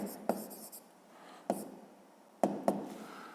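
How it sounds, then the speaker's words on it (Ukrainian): A pen writing a math answer on paper, faint scratching strokes broken by a few sharp taps of the pen against the page, quiet and close. "Треба записати відповідь."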